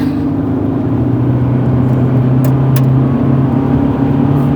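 Steady droning engine of a Ford Ranger held under throttle while driving off-road down a hill, a constant loud mid-low hum with no breaks and faint rattles over the top.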